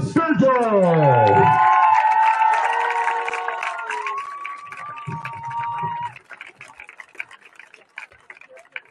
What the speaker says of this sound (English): A wonderful applause for your 2023 homecoming court.